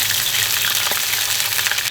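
Scallions drop into a wok of hot rapeseed oil and lard already holding ginger and garlic, giving a loud, close, continuous sizzle with a brief crackling flare.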